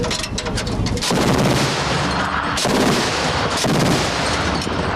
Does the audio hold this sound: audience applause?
no